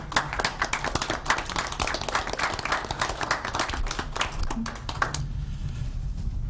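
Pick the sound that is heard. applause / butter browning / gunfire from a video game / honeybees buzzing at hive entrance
applause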